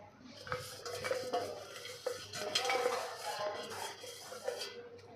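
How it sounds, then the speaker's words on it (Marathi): Ground Govind ladu mixture is poured from a vessel into a large metal plate, giving soft scraping and light clinks of metal on metal, close and fairly quiet, with no talking. "आता ह्या ताटामध्ये आपण हे सगळं ओतून घ्यायचं आहे"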